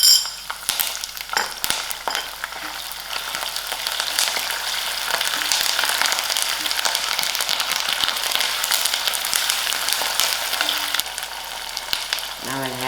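Ginger, garlic, curry leaves and thyme fry with cooked onions in a pan for a borlotti bean and potato dish, giving a loud, steady sizzle with a few clinks and stirring scrapes throughout.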